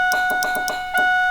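A car keyed on with a line lock installed gives a steady, repeating electronic ding chime, with quieter solenoid clicks just audible beneath it, all close and continuous.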